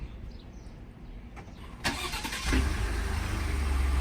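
A Ford F-150 pickup truck engine, started by remote, cranks briefly and catches, then settles into a steady, loud rumbling idle close by.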